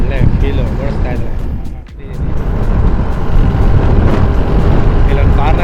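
A thirty-year-old Bajaj Chetak scooter rides on the road with a continuous roar of engine and wind buffeting. The noise dips briefly partway through, and a voice talks over it near the start.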